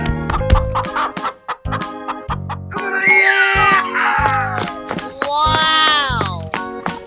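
Animated chicken clucking and squawking in a 3D animal slide video game, mixed with game music, sound effects and cartoonish voices throughout.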